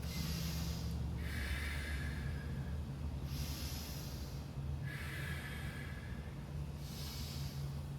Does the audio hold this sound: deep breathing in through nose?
yes